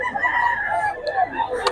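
A brief stretch of chickens and a rooster sounding among buyers, bird calls blended under steady background chatter.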